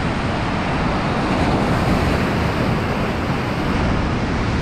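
Ocean surf breaks on a beach during surf fishing, a loud steady broadband roar of churning waves mixed with wind buffeting the microphone, with no voices.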